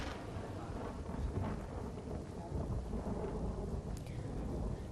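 Heavy monsoon downpour in a Gujarat village, a dense, steady hiss of rain with low thunder rumbling beneath it, continuous and fairly faint overall.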